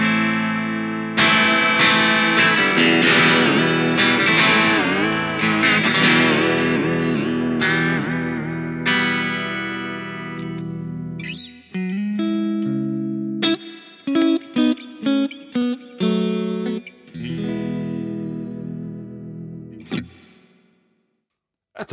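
An electric guitar plays chords and notes through a Boss Katana-Mini X amp's heavy, splashy spring reverb, with long drippy tails ringing out after each strike.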